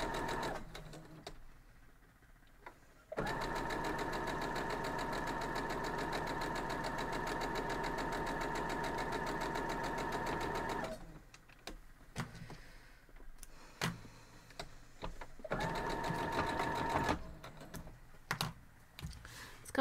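A sewing machine stitching a pinwheel quilt block, running in a long steady whir, then stopping and restarting in shorter bursts with handling noises in between.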